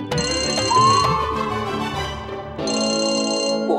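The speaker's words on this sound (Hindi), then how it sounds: "इस समय कौन फोन कर रहा है मुझे?" A phone's melodic ringtone plays loud and close indoors at night, pauses briefly, then rings again, with no voices over it.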